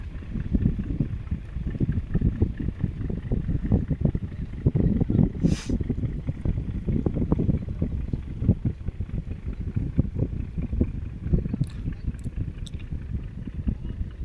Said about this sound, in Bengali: এখান দিয়ে একটা জাহাজ যাচ্ছে দেখো পরপর দুটো